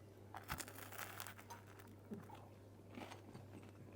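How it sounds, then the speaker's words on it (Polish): Someone eating bread, with close, quiet crunches and chewing bites arriving in irregular bursts over a low steady hum. "To chrupanie jeszcze tak nakręca, wiecie, apetyt."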